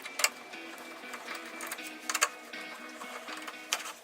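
A T15 Torx driver backs out the hood latch screws on a Chevy Silverado 1500 during a grille install in a garage, giving a close, quiet whirring ratchet-like buzz with sharp clicks and taps scattered through it, no talking.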